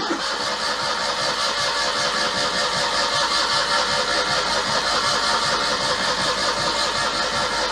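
Citroen 2CV with a freshly swapped engine, in neutral without choke, cranking on the starter in a loud, steady, close whirring drone that continues throughout without clearly catching.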